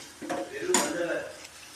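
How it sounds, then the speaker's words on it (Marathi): A spoon stirs chili powder in hot oil in a pan, giving a brief burst of close metallic scraping and clinks against the pan. "हे सगळं आपण मिक्स करून घेऊया. थोडंसं आपण तिखट तेलामध्ये होऊ द्या"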